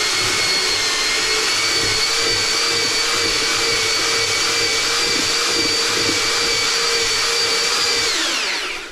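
A cement mixer motor runs loud and steady right up close, a constant droning whine that winds down just before the end.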